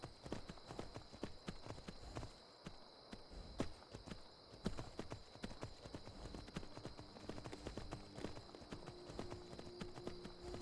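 Horse hooves clip-clop in a steady walking rhythm during a night ride in the video game Skyrim, close and continuous over a constant faint background tone, with no talking.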